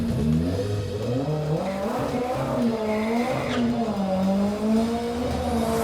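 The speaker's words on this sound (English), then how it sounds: "See if he can burn a little rubber there." A black turbocharged Lotus doing a burnout, its engine revving loudly and steadily in wavering pitch throughout, with a brief tire squeal rising partway through.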